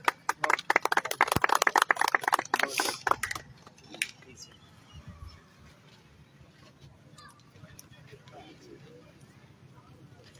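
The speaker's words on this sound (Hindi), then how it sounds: "आपकी जोरदार तालियों में।" Applause from a crowd at an outdoor ribbon-cutting ceremony, a burst of dense clapping for about three seconds that quickly fades into scattered claps and quiet murmuring.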